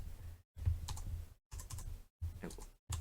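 Typing on a computer keyboard, including a press of the Tab key: a few close, quiet clusters of key clicks separated by short silent gaps.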